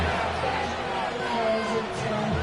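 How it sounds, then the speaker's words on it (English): A football crowd roars loudly and steadily in a stadium during a tense late-game moment, a dense continuous wall of cheering and noise with no pauses. "This crowd trying to be a factor, getting very loud now."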